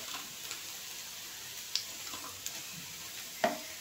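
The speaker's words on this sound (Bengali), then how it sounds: "এটা একটু ভালো করে ভাজি" Malabar spinach pakoras fry in oil with a faint, steady sizzle. A few sharp clicks and taps from the utensils break through now and then.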